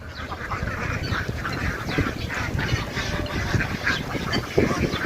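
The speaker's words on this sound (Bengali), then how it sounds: "কত সুন্দর হাঁস" Ducks quack in a dense chorus at a duck farm, overlapping calls repeating steadily at moderate distance against a noisy outdoor background.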